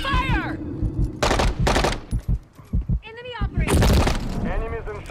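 Gunfire in Call of Duty: Modern Warfare III on PS5, with sharp bursts of automatic weapon fire and single cracks close by, mixed with in-game voices and a player talking over the action.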